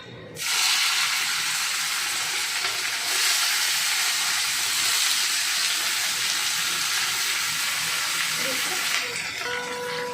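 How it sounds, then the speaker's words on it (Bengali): Bitter gourd and pumpkin pieces frying in oil in a pan, giving a steady, loud broadband sizzle and hiss that holds from start to finish, with faint background sounds underneath. "এটা দিই একটু ভাজা ভাজা হোক, একটু ভাজা কুমড়ো দেবো, ভাজা ভাজা হোক"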